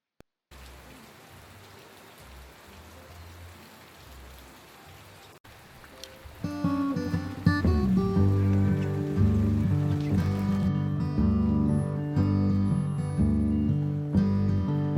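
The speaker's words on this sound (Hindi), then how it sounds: "Oh my god, it's raining so heavy." Heavy rain pours steadily in a pretty French-style village near Kuala Lumpur, a dense hiss at first, then loud music swells over the downpour and stays prominent.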